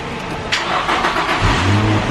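A car engine, jump-started with cables clamped to its battery, cranks against a loud broadband whir, then catches and settles into a steady low idle, close to the mic with no talk.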